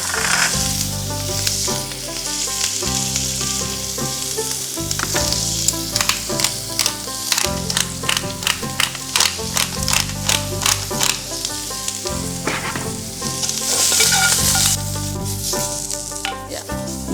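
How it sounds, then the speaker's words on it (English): Food sautés with salt and pepper in a hot pan, a loud continuous sizzle and crackle with clanking stirring strokes and clicks throughout, under steady background music. "I'm just gonna saute it with salt and pepper again."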